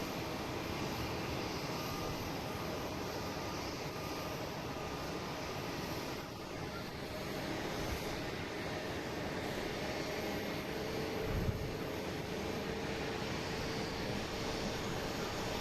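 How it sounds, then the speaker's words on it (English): Iberia Airbus A321neo jet on a flight to Madrid, a steady broadband engine roar held at an even level throughout, moderately distant and without talk. "now we gotta get Iberia for Noosh. Heading to Madrid, an A321neo"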